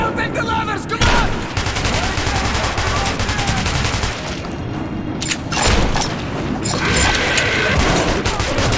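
Loud, sustained gunfire from Metro 2033 Redux, with rapid bursts and booming shots crowding the whole stretch as voices shout over the chaotic firefight.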